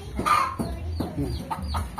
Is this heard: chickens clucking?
yes